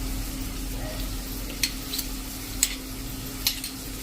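Cabbage and potato cook in a pan with garlic paste added, a low sizzle under a steady hum with a few sharp spoon scrapes and clicks, close and without speech.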